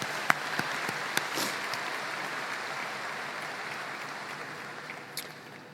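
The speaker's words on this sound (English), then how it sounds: "Let's give them a round of applause as well, please." Audience applause at a high school commencement ceremony, a soft, steady patter of clapping from a distant crowd with a few sharper claps standing out near the start.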